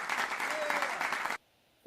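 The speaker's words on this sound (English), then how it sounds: "We got an extra round of applause." An audience breaks into a round of applause during a live broadcast, a dense, steady burst of clapping that cuts off abruptly after about a second and a half, leaving near silence.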